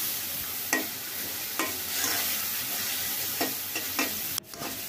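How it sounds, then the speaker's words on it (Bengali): Dried mola fish is sautéed in a pan with vegetables, giving a continuous close sizzle with several knocks and scrapes of a stirring spoon and a brief clatter near the end. "এখন শুটকিটা ভালো মতন কষিয়ে নিতে হবে।"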